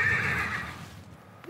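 A two-week-old Arabian thoroughbred foal at a stable gives a loud, close whinny that fades out over about a second, followed by a faint short sound near the end.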